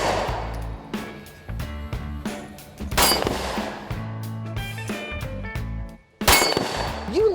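Sharp pistol shots from a Smith & Wesson M&P Shield Plus in 30 Super Carry, each followed by a ringing clang of steel plates, fired in quick groups separated by short pauses.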